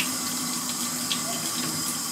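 Cold tap water running steadily into a sink over drained sauerkraut being rinsed for pierogi filling, a continuous close hiss of flowing water with no talking.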